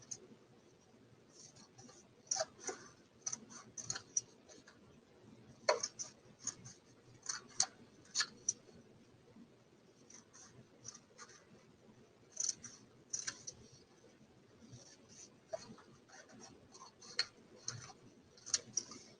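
Scissors snip through folded paper being cut into spider legs, a quiet series of sharp, irregular clicks and crisp cuts in a still room, with no talking.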